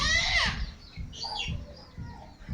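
A laying hen clucks nearby in short, soft bursts, with a brief higher call at the start; no talking.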